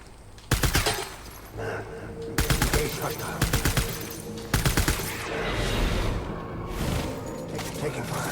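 Automatic gunfire bursts out in the Death Stranding video game, several loud rapid volleys with short gaps between them and a steady rumble of background noise in between.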